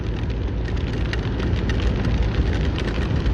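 Light rain shower falling steadily during a motorcycle memorial race, a dense continuous hiss with faint pattering, close and even in level throughout, with no speech.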